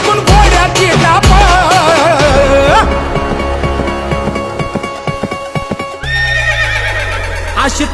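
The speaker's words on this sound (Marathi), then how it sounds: "तवा हादरली भूमी ऐकून घोड्याची डाप" A horse whinnies loudly over a Marathi folk song with singing and instruments, and rhythmic hoofbeat-like thumps continue as the music plays on.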